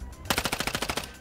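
Rapid automatic fire from a large caliber weapon in Warzone Mobile, about nine close, loud shots in quick regular succession after a brief lead-in.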